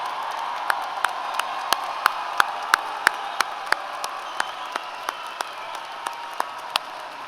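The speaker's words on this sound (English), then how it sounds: "Let's have a round of applause for the people who got these students to where they are today." Applause at a university undergraduate commencement ceremony, a soft wash of distant crowd clapping with a few sharp, louder nearby claps standing out at a steady pace.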